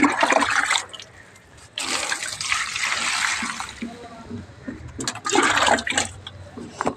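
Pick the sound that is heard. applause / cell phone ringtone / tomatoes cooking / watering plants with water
watering plants with water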